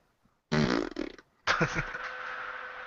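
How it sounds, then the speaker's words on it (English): Two loud, close farts, the first a sputtering half-second blast and the second a longer, drawn-out rasp that trails off slowly, with no talking. "Thank you for that audible fart."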